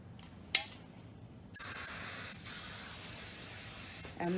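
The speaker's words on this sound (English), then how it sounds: "you just wanna keep spraying." Hairspray hisses in one long continuous burst onto hair from a held-back distance, steady and fairly close, after a brief click at the start.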